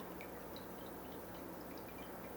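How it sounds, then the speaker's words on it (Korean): Faint, steady trickle of running water with small droplet-like ticks, quiet and continuous in the background. "옆에서 계속 물소리가 들리는데 ASMR 같지 않아요?"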